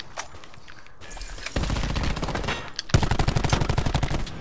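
Rapid automatic gunfire from a shooter video game, loud and close, with a few sparse shots first, then heavy sustained bursts of repeated cracks.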